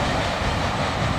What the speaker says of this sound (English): Size military train, much bigger than the one I caught up at Maybell.